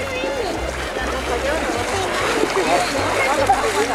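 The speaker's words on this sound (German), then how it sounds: "werde ich aber nochmal das Wasser mit meinen Füßen testen" Bare feet splash and slosh through warm, shallow sea water in a sandy bay at Campoamor beach, a steady near wading sound with soft watery splatters throughout.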